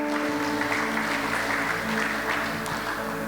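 A church congregation applauding during a French sermon, a steady dense wash of clapping from a large crowd with a sustained organ-like tone underneath.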